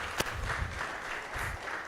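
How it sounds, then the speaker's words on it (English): An audience at a training programme launch applauds in a soft, continuous wash of clapping, one sharp clap standing out near the start. "Maybe you can join me in a round of applause."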